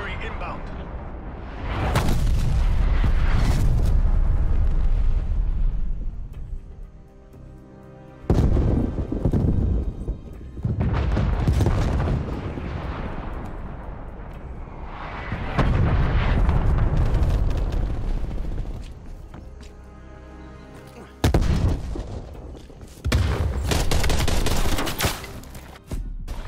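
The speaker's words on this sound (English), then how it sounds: "Artillery inbound." Artillery strike explosions in Call of Duty: Black Ops Cold War: several heavy, rumbling blasts roll in long waves with short gaps between them, loud and close, with faint voice activity underneath.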